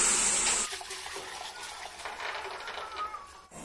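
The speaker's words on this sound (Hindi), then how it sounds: "भैंस का दूध है, कढ़ाई मैंने गैस पे रख दी है और अब इसमें मैं दूध डाल रही हूँ।" Buffalo milk pours into a wok set on a gas stove, a steady liquid splash and gush that runs continuously, louder at the start and then settling into a softer stream.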